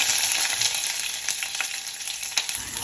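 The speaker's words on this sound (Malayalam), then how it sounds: "ഉലുവ മൂക്കുമ്പോഴത്തേക്കും നമ്മുടെ ഉള്ളിയും കറിവേപ്പില ഇട്ട് കൊടുക്കാം" Onions and curry leaves sizzle and crackle in hot oil with fenugreek seeds in a pan. The frying noise is dense and continuous, fairly close, with no one talking.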